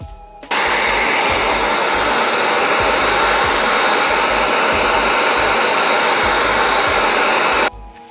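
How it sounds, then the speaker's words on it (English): A heat gun blasts on knife scales of a Kershaw Blur to loosen the factory Tracktion inserts, a loud steady close-up roaring whoosh switching on abruptly and running for about seven seconds before cutting off. "hit them with a heat gun so I can remove this factory track insert"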